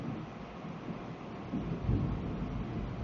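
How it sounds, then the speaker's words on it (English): Distant thunder rolls as a low, muffled rumble that swells midway and lingers faintly, heard indoors with soft background noise and no voices. "Oh, listen. Thunders."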